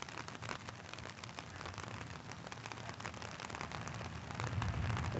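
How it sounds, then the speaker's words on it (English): Steady rain patters on an umbrella during an outdoor walk, a dense, close hiss of drops that swells louder toward the end. "The rain is lightening up a bit now"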